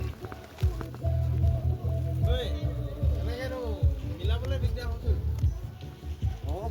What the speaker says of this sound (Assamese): নাও ষ্টাৰ্ট হৈ গৈছে